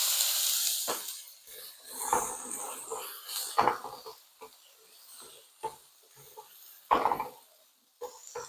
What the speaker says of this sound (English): I'm just going to add the chickpeas.